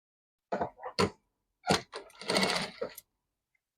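A sewing machine stitches a shirt seam in short separate bursts, each a close whirring run, with pauses of near silence between them and no voices.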